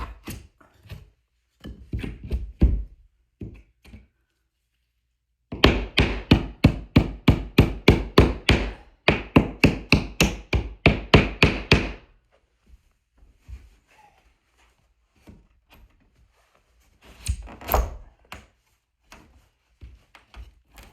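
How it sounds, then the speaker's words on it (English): A handsaw cuts out a section of wooden baseboard for wall framing, rhythmic rasping back-and-forth strokes in a steady run, bracketed by scattered knocks and handling sounds. "So we're ready to begin cutting this out, the baseboard right here"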